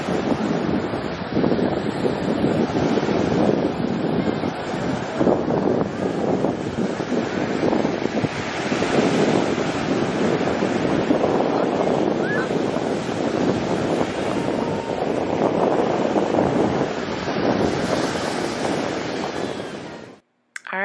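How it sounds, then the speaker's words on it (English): Ocean waves at Cocoa Beach, Florida wash in continuously, heavily buffeted by loud wind gusting across the microphone, before cutting off abruptly at the end. "The sound of the waves was so nice, so I just want to give you guys a second to listen to it"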